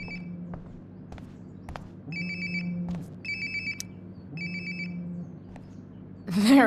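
A nearby phone rings in a video game, three or four short repeating ring bursts over a quiet low hum, ending in a brief louder rustling sound.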